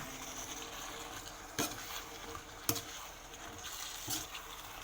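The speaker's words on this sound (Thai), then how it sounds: "ผัดให้เข้ากันเลยค่ะ" Diagonally sliced green beans are stir-fried with pork and curry paste in a pan, a quiet sizzle running under a few sharp scrapes and clanks of the utensil against the pan.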